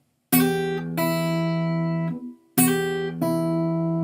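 Guitar phrase from a blues line, played alone: two pairs of ringing notes, each pair joined by a fast slide into place, with a short gap in the middle.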